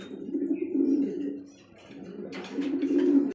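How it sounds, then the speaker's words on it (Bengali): A pair of German beauty homer pigeons coo nearby in soft, low, throaty rolling phrases, with a brief pause midway before the cooing resumes; no one speaks. "দর্শক এখনো দেখতে পাচ্ছি একজোড়া বিউটি হুমা কবুতর"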